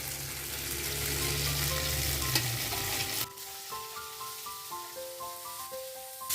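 Garlic and onion start frying in a pan beside set-aside fried tofu, a steady crackling sizzle that drops away abruptly midway, leaving quieter hiss and faint tonal hum.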